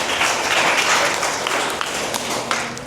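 A class of village schoolchildren applauds together, a dense, steady wash of many hands clapping with no clear gaps, close and fairly loud throughout.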